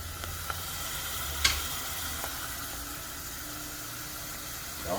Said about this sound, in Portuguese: E aí ele vai cozinhar a cebola e não que a gente chama de fritar, que na verdade é refogar